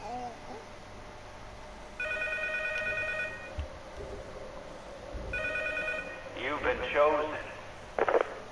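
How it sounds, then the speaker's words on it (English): Electronic ringing tones sound twice as a phone rings in the horror game P.T., each burst lasting over a second, followed by a louder warbling chirp and voices over a dim ambient hum. "Phone's vibrating."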